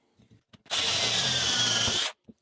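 Power drill with a blunting bit boring into old, hardened pine stud in a cottage loft, a single grinding burst of about a second and a half between faint clicks.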